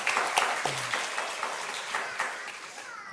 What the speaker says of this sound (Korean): 우리 감사의 박수 먼저 하나님께 돌립시다